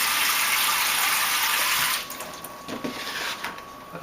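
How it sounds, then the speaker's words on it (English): Cold eggs sit under a running kitchen tap, the water rushing loudly and steadily at first, then dropping to a softer, uneven trickle and splash for the last couple of seconds. "I'm going to put it on the tap water and let them stay"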